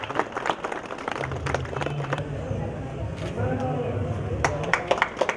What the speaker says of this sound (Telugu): అందరూ చప్పట్లు కొట్టి అభినందించుదాం.